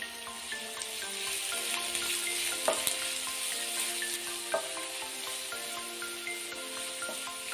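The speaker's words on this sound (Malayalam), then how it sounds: "നമുക്കിത് വഴന്ന് കിട്ടാൻ ആവശ്യമായ ഉപ്പുകൂടെ ചേർത്ത് നന്നായിട്ടൊന്ന് മിക്സ് ചെയ്ത് കൊടുക്കാം" Sliced onion, green chilli and salt sauté in a pan with a steady close sizzle, broken by the scrape and clink of a spoon stirring, with no voices.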